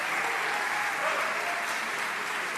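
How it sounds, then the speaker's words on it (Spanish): A crowd at an awards ceremony gives sustained applause, a steady wash of clapping with faint talk underneath. "ero agradecerle a mi directora Dolores Fonsi un fuerte aplauso."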